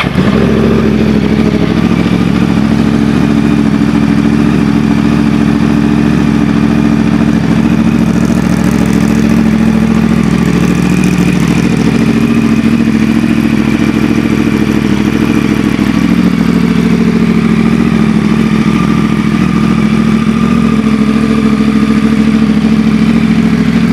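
A 2009 Yamaha YZF-R1 sport motorcycle engine rumbles loudly and steadily up close after starting, idling with a deep, continuous drone and slight shifts in pitch as it runs.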